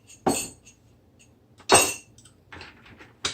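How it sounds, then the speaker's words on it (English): Ice cubes clatter into a blender cup for lemonade slushies, three sharp bright crashes spaced about a second apart with smaller clinks trailing each one. "add more ice cubes"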